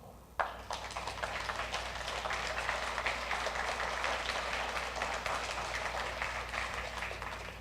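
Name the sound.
applause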